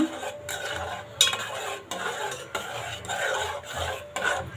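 Turmeric being stirred into a telagapindi curry in a pan: a spoon scrapes and clinks against the pan in repeated rhythmic strokes, close and moderately loud, with no talking.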